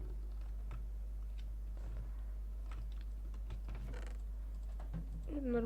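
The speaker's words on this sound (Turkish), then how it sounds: "klavyeden ses çıkıyorsa öküz gibi klavyeye vuruyorum sinirden" Fast, irregular clacking of keys struck hard on a computer keyboard during Minecraft play, fairly quiet against a steady low hum, with a brief voice-like sound near the end.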